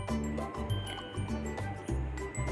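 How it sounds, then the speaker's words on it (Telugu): Rice being washed with water in a bowl while preparing Hyderabadi chicken dum biryani, giving close, repeated liquid sloshes and drips in a steady rhythm, with no talk. "ఇప్పుడు 1/2 kg రైస్ని ఒక బౌల్లోకి తీసుకొని దాన్ని మనం వాటర్తో"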